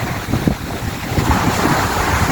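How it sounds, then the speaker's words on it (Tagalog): Gentle sea waves wash and churn in a continuous low roar, mixed with wind gusting across the microphone. "Ayan po ang ating karagatan ngayon. May konti pong alon"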